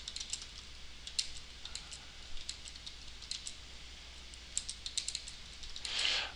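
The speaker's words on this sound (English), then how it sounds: "So once you start typing, I'll show you." Typing on a computer keyboard, a steady run of quick, light key clicks in close, faint bursts with short pauses, heard alone in a quiet room.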